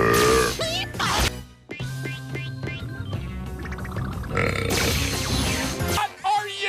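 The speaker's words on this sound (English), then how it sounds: "Even worse, my blaster's making me burp!" A cartoon dog character from T.U.F.F. Puppy lets out loud, gurgling burps amid music and other sound effects, with voices talking around them.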